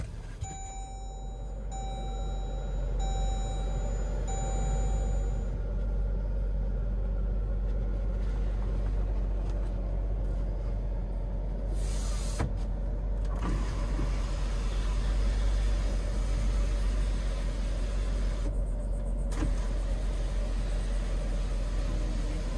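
A 2017 Jeep Grand Cherokee engine starts and settles into a steady, low idle rumble that carries on continuously, heard from inside the vehicle with no talking.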